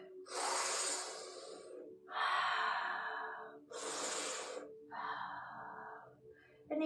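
Slow, deep breaths during a fascia stretching class, heard close and loud as a series of long inhales and exhales, about four in seven seconds, with no talking.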